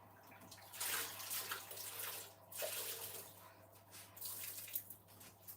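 Dyed wool yarn being rinsed in running water, a steady tap-like splash and trickle with a few louder surges and drips, heard close with no talking.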